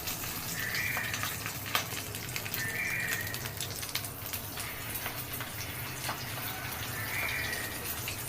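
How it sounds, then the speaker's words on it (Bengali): Fish roe fries in hot oil, a steady close crackling sizzle with sharp pops and faint periodic chirps behind it, no talking. "এখন মাছের ডিম ভাজবো, এই জন্য তেল দিলাম"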